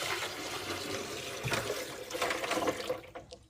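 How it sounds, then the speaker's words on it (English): Water poured into a crystal jar, a continuous splashing, gurgling stream close by that rises slightly before tapering off. "I have to put in new water in here"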